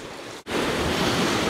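Sea waves break on stones at the beach in Simeiz, Crimea, after a storm, a loud, close, continuous surging wash with wind buffeting the microphone.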